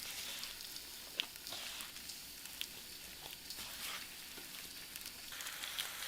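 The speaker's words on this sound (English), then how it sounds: "And then you're gonna add them right into your slow cooker with that nice hot lard." Seasoned meat pieces sizzle in hot lard inside a slow cooker for Mexican barbacoa: a steady, fairly quiet frying hiss with a few sharp pops scattered through it.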